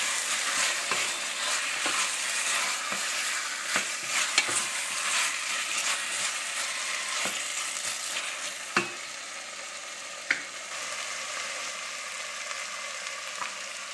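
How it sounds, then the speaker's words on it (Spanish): Pork ribs and lean meat browning in a pan with carrot, a continuous bright sizzle and fry with repeated stirring scrapes and a few sharp knocks of a utensil against the pan. "Las costillas y el magro. Y lo vamos a dorar un poco."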